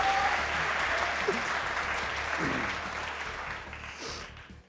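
Steady studio audience applause on a Pakistani cricket talk show, dense and even, greeting a panelist, gradually fading toward the end with faint voices underneath.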